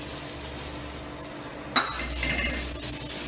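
Soaked rice dry-roasting in a pan for puttu, soft grainy rustling and scraping of a ladle against metal, with one sharp clink midway; close and fairly quiet.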